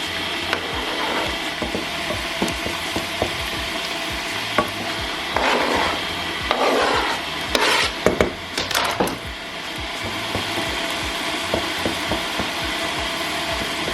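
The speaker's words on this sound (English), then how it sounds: "I'm going to chop up my tomatoes" Small tomatoes being chopped into small pieces with a knife on a board, a series of light irregular taps and clicks, fairly close, over a steady background hiss.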